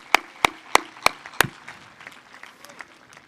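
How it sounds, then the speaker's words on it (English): Five crisp hand claps at a graduation ceremony in a steady, evenly spaced rhythm, then they stop and only faint room noise remains. "you just take a moment to applaud your parents and families that have helped you get here today"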